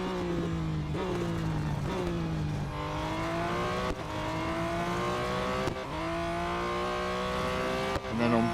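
Simulated BMW M Hybrid V8 race car in a racing video game, its engine note dropping in steady downshifts as it brakes hard into a corner, then rising again, loud and continuous throughout.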